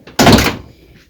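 The door of a 1986 Ford Mustang being shut, one loud close thunk with a short rattling tail that fades into quiet.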